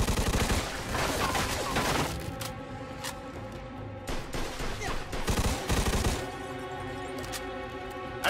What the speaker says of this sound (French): Wow, je les tire, Vito.